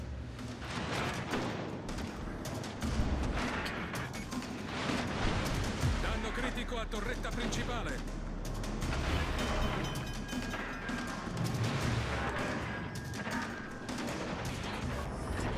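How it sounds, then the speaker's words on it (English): Shells from four enemy ships pinging and bouncing off a battleship's armor in Azur Lane, a dense nonstop barrage of cracks and metallic impacts under continuous talk. "You hear that beautiful ping sound just nonstop? There's 4 ships shooting at me."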